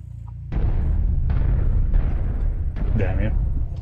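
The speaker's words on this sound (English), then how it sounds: "Ammo explosion detected." A mech's ammunition cooks off in MechWarrior Online: heavy low booms start abruptly and roll on as a sustained rumbling blast, with repeated explosive bursts layered over continuous game noise.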